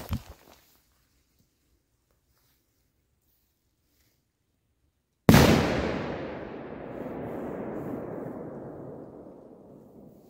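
A sharp firecracker blast goes off after a short faint crackle, then a long roaring, crackling decay of fireworks that gradually fades, set during Romania's 1 December celebrations.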